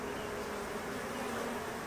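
Steady, dense buzzing of many honeybees at an opened hive during a frame check, a continuous low drone with no pauses, close by and fairly quiet, with no talking.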